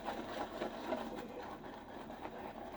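A brush works shaving soap into a lather, a steady soft wet churning and swishing, close and quiet, with no voices.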